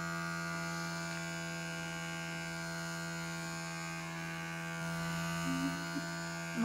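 A small electric fan drones steadily at low volume with an even mains-like hum, running throughout without pause or voices.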